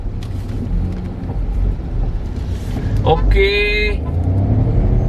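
A Volkswagen Polo TSI hatchback launches from a standstill, its engine roaring up through the revs with a sharp rising whine near the end, while a person speaks briefly over it.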